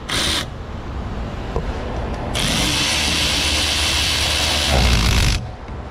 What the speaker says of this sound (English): it's time to tighten this bolt down a little bit.